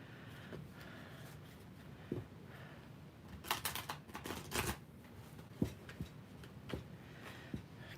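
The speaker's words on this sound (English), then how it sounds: "Cards don't want to shuffle this morning for you guys." Tarot cards being shuffled by hand, soft papery riffles and taps in short clusters, quiet and close with a brief louder flurry in the middle.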